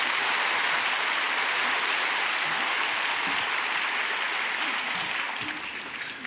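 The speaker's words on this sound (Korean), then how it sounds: "우리 박수로 환영하겠습니다." A church congregation claps in welcome for a guest speaker at a dedication thanksgiving service, sustained dense applause from a large crowd filling the hall, fading slightly at the end.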